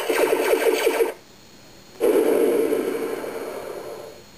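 An electronic Star Wars board game sounds a hit, first a rapid pulsing laser-fire burst for about a second, then after a short pause a loud, noisy explosion that slowly fades, all from a small toy speaker.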